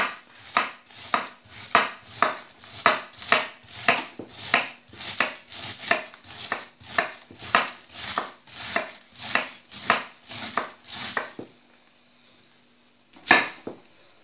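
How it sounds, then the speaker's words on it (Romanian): A knife slicing a halved cabbage into strips on a board, a fast even run of crisp chopping strokes for about eleven seconds, then a pause and one last cut, close and clear without speech. "Și începem să tăiem șuvițe"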